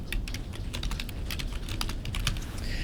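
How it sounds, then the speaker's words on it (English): Steady typing on a computer keyboard, fast clustered key clicks close up and fairly quiet, with no voices. "type in the name, owner last name."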